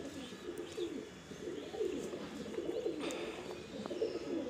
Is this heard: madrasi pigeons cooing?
yes